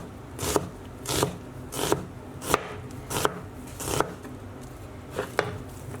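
Knife slicing through brown onions on a cutting board, about nine crisp evenly spaced chops roughly every two-thirds of a second, close and clear with no talking.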